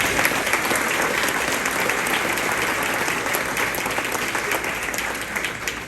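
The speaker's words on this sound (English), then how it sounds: "A round of applause for our entire team." A luncheon audience bursts into sustained applause, a dense, steady wash of many hands clapping that stays loud throughout and tapers slightly at the end.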